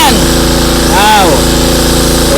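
A two-in-one generator with built-in welding machine runs steadily, a loud continuous engine drone with a brief rising and falling whine partway through.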